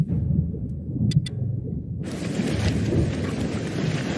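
In the Sea of Thieves video game, a thunderstorm brings a sudden loud burst of rain and rumbling thunder midway, with a couple of sharp cracks before it; steady heavy downpour continues after.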